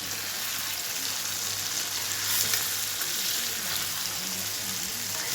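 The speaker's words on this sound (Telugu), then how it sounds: "షాలో ఫ్రై చేస్తున్నాను." Paneer fritters shallow frying in oil in a pan, a steady dense sizzle and crackle throughout with no talking.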